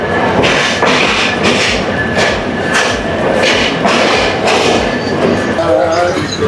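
A passenger train on the Dhaka to Jessore route rumbles along steadily from inside the carriage, with rhythmic clickety-clack thumps of wheels over rail joints and a continuous loud roar throughout.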